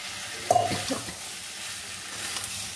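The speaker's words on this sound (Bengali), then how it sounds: "এইবার এই অবস্থায় এই এঁচড়গুলো ভেজে রেখেছি সেগুলো এর মধ্যে ঢেলে দেবো" Fried jackfruit is tipped into a pan of cooked-down onion and potato masala, producing a short clattering scrape and thump followed by a low, steady sizzle that fades to a quiet simmer.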